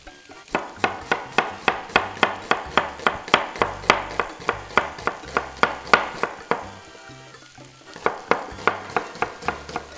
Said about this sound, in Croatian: Luk ćemo iseći